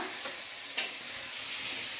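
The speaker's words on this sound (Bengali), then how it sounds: "ওর পাপা ভাজছে আলু পেঁয়াজ ভাজা" Potatoes and onions fry in a pan in a home kitchen, giving a steady, close sizzling hiss broken by one brief clatter partway through.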